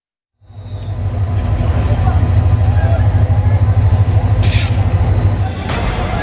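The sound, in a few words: crowded Kamalapur railway station with trains, Dhaka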